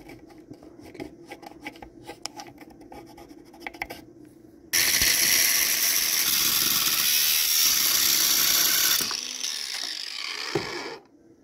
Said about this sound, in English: So we're going to go ahead now and cut that socket.